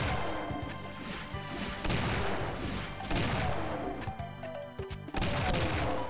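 Two weapon shots in the video game The Golden Souls, sounding in quick succession as loud bursts amid dense, busy game sound, with a further sharp blast near the end.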